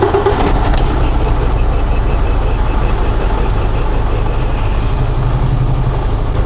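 A Mercedes Actros MP4 1848 truck diesel engine idles steadily after a push-button start, a loud, close, even low rumble that holds without change.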